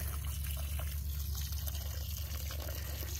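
Water pouring onto garden plants, a quiet continuous trickling splash with faint drips, steady throughout over a low droning hum, no voices.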